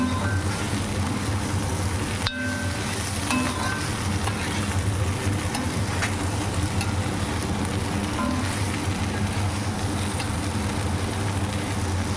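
Dried puti fish fried with onion and garlic, crushed and stirred in a pan, giving a steady loud sizzle throughout with a few faint scrapes of a spatula and one sharp knock early on.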